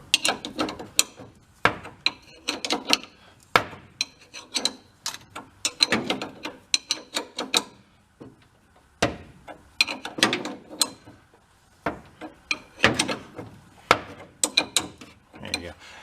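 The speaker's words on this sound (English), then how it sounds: "I'm just gonna throw a wrench on it and we'll crank her over" A ratchet wrench clicks repeatedly as it turns over the engine of a VW truck, bursts of sharp mechanical ratcheting separated by brief pauses, close and fairly loud with no talking.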